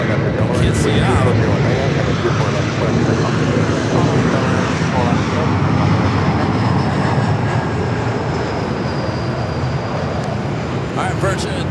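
A Virgin airliner on Flight 8 to London Heathrow takes off from LAX. Its engines give a loud, sustained roar that fills the whole stretch, and a voice talks over it.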